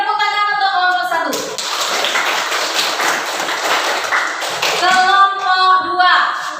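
A classroom group claps for the first team, a sustained burst of mixed hand clapping lasting a few seconds, with a teacher's voice talking before and after it.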